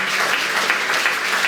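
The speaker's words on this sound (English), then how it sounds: "so round of applause for Yolanda." A crowd claps steadily at a BMX Hall of Fame induction ceremony, a dense even burst of applause filling the whole moment.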